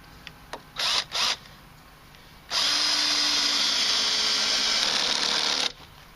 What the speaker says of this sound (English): I'm going to try that same screw with my 10, 12-year-old 18-volt Porter cable, which is, I believe, a brushed drill